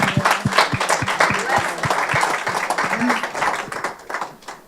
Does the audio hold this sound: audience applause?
yes